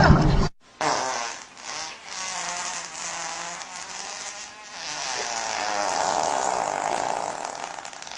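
A long, loud, buzzing fart sound plays close and continuous for several seconds after a brief cutoff, its raspy tone wavering throughout.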